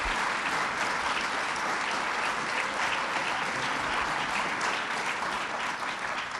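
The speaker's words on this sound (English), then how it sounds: "Let's give her another round of applause because I'm her favorite son." Steady, dense audience applause fills a public event hall at a governor's justice agenda presentation, loud and unbroken throughout with no voices over it.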